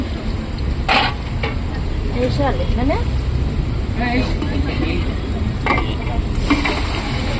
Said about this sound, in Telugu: ఇప్పుడు చికెన్ కలుపుతారు.